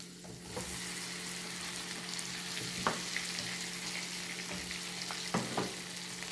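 Mashed boiled potatoes stirred into a pan of frying vada pav masala with turmeric. A steady close sizzle runs throughout, broken by a few sharp scraping clicks of the spoon against the pan.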